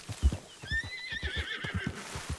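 Horse neighing in the Red Dead RedM roleplay game, a bright whinny rising over a steady clip-clop of hooves, close and fairly loud, with no talk.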